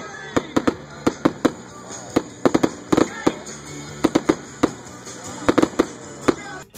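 Fireworks at a winter festival crack and bang outdoors in sharp, irregular bursts, some single and some in quick clusters, loud against a low crowd murmur.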